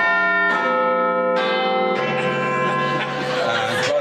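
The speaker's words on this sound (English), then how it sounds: "Let's have a round on the buzzers and bells." Quiz show panellists' buzzers sound one after another as bell-like chimes, each new ringing tone layering over the last and building into a loud, sustained cluster, with faint laughter underneath.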